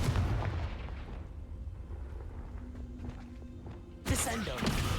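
The Confringo fire spell in Hogwarts Legacy goes off as a sharp, booming blast at the start and then rumbles away. A second burst hits near the end, mixed in with other game sounds.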